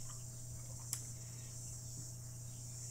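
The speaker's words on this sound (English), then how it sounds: "Yeah, I've got cicadas galore." Dense insect buzzing from cicadas outdoors in the States during cicada season, a steady loud high drone that holds unchanged throughout, with a single brief click near the start.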